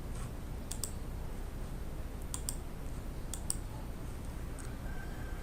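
Several sharp, faint clicks of a computer mouse, spaced out in pairs and singles over a steady background hiss, with no talking.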